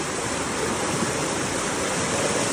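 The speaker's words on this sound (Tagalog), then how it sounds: "Ang lakas ng agos." Strong rushing current at Alitap Falls in Pagbilao, Quezon, a dense steady roar of falling water filling the whole moment, loud and close with no pauses or voices.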